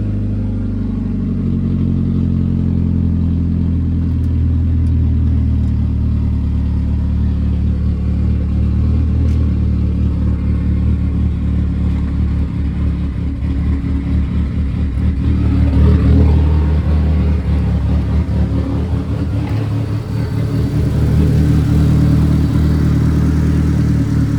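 A 2G Mitsubishi Eclipse GSX engine fired up after a cruise control throttle body cable delete, a loud close steady idle hum running continuously with a slight surge partway through.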